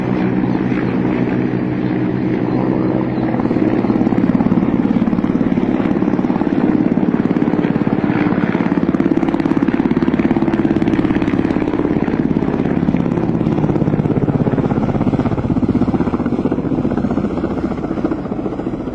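A Russian Ka-50 Akula military helicopter flies overhead, its loud throbbing rotor drone swelling as it nears and holding steady through the pass, with no talking.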